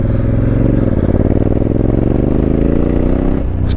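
A Honda Africa Twin motorcycle rides on a slippery wet road with its back tyre spinning. The engine drones loud and close throughout, its pitch climbing steadily as it revs, then dipping briefly near the end.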